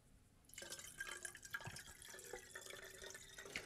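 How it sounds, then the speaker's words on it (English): Water poured into the boiler of a vintage La Pavoni Europiccola lever espresso machine, a soft, steady trickle and splash that starts suddenly and runs on quietly up close, with no voices. "As I add water into the machine, you should see the water in the sight glass increase."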